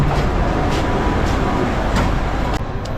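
A Bangkok metro train rumbles steadily through a station with broad mechanical noise, a few sharp clanks and a brief drop in level near the end.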